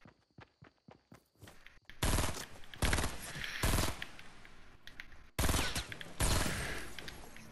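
Rapid bursts of video game gunfire, starting with a few separated loud shots and then long, dense automatic volleys that crowd the scene, with brief gaps between the bursts.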